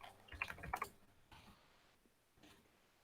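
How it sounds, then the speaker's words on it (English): Quiet, close typing on a computer keyboard, with a quick cluster of key clicks at the start followed by a few sparse taps, no speech. "so I don't have to keep typing it"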